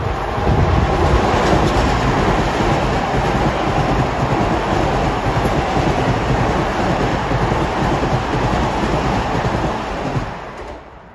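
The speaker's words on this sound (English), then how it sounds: "here comes my good buddy train 1056. Ronkonkoma bound out of Penn Station." A Long Island Rail Road train, number 1056 bound for Ronkonkoma out of Penn Station, passes at Elmont with a loud, sustained roar and rumble of wheels on rail, steady throughout before easing slightly at the end.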